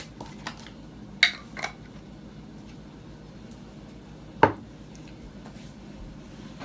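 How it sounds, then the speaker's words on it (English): A spoon clinks against a pan while adding minced garlic, two quick metallic taps early and one sharper clank later, over a quiet low background hum. "I'm going to take my spoon and just add a little bit more of the minced garlic"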